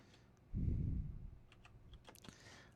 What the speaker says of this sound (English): I'm definitely getting a different keyboard.